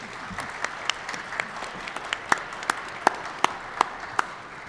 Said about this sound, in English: I would like to maybe give Eric, Linda, and Jim a round of applause for their contributions